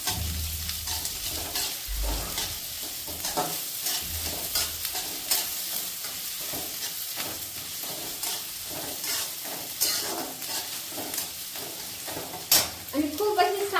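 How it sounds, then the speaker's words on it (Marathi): Onion and garlic frying in very hot oil over a full flame, a loud continuous close sizzle with frequent stirring scrapes and a few clinks of utensil against the pan, no talk. "फुल गॅस केला आणि आता चांगला कांदा लालसर होईपर्यंत परतून घेते"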